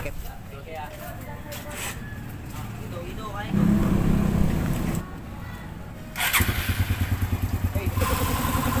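A Raider 150 motorcycle engine runs nearby, idling unevenly before revving up in short bursts and then settling into a rapid pulsing putter, with people talking over it.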